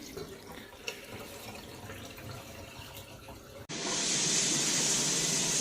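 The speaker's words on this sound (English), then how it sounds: "And now we're draining." Water running out of an unplugged sink drain, a steady loud rushing gush that starts abruptly partway through after quieter handling noises, close and without talk.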